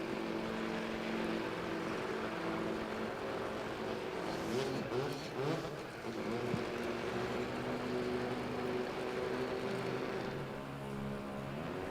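A modified Datsun 1200 Ute compact race car at a Sydney drift jamboree gives a steady, gruff engine drone that swells and eases over the whole stretch, heard from a distance with a broad roar of background noise.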